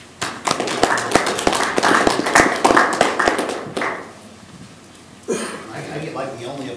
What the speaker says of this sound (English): I get like the only applause of the entire conference